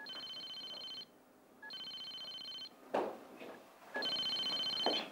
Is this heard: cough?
no